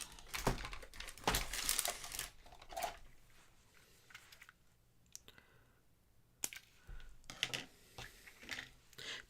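Scissors snipping paper snowflakes at a craft table, a run of close, crisp clicking cuts and rustling paper in bursts, pausing briefly before more snips and crinkles resume.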